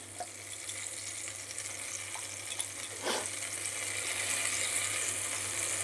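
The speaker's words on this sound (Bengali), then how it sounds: "মিক্সি বাটিটা একটু জল দিয়ে ধুয়ে দিয়ে দিচ্ছি।" Water runs steadily into a mixer grinder jar as it is rinsed, a soft continuous splashing hiss near the microphone with a low steady hum underneath and a brief stronger gush partway through.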